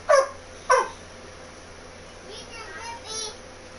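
A dog barks twice in quick succession indoors, loud and close, followed by faint whimpers and murmured voices in a quiet house.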